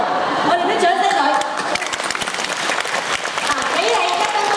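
Audience applause at a primary school graduation ceremony at Tuen Mun Government Primary School, a dense sustained patter of many hands with voices talking faintly underneath.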